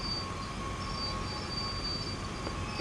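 A train in Train Sim World runs with a steady, moderately quiet rumble and faint tonal whine, holding an even level throughout with no talking.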